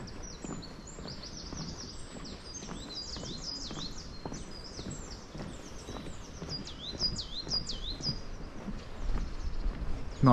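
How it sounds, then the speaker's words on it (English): Several birds chirp and twitter in quick repeated bursts, fairly close, over a soft outdoor background with light footsteps or rustling, in an English forest. "just hear all the birds"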